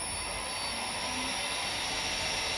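A homemade heavy-duty bead roller running at full speed gives a steady, loud whirring motor drone with a high whine on top, unbroken and constant throughout.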